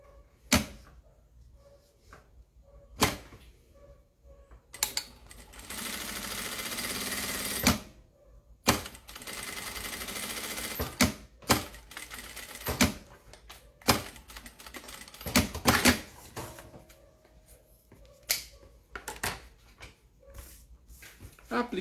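A sewing machine stitches a zipper onto a clear plastic pencil case, running in two loud sustained bursts separated by clicks, taps and handling noises.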